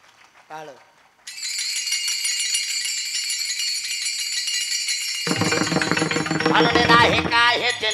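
Taal hand cymbals ring out in a steady, bright metallic stream at a devotional kirtan, joined midway by a mridang drum and a fuller ensemble, after a brief vocal cry at the start.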